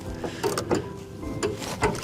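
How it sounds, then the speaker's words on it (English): A ratchet turning a 16mm socket tightens bolts on a Husqvarna TS-242XD riding mower, giving several short metallic clicking bursts spaced irregularly, close up and fairly quiet. "Let's tighten up here. This is a 16mm socket, by the way."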